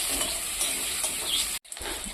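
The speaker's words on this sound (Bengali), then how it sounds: "এবার আমি আলুটা ভালো করে ভেজে নেব মশলা দিয়ে।" Cut potatoes with green chili and spices fry in a home kitchen pan, giving a close sizzle with stirring scrapes, a brief break and then more frying, with no talk.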